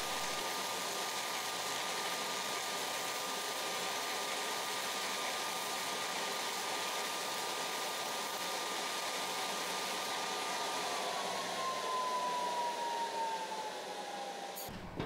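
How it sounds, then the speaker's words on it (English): A stick welding arc drags a weld bead across metal, giving a steady, loud crackling hiss that runs unbroken for about fifteen seconds with no one talking. "Now that we've got our weld done"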